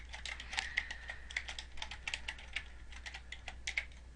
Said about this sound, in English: all I have to do that is simply type in a column header